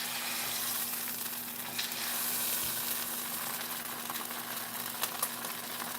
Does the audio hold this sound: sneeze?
no